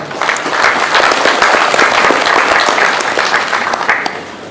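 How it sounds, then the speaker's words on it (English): Sustained applause from a large audience at a high-level African counter-terrorism meeting, honoring Malam Nuhu Ribadu; dense, loud clapping holds steady for several seconds before easing slightly at the end. "Let's hear another round of applause for Malam Nuhu Ribadu."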